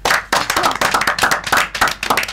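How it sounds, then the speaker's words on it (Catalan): Close, loud clapping in a quick, uneven rhythm, a handful of distinct claps from an audience rather than a broad wash of applause. "No em direu que no es mereix un aplaudiment."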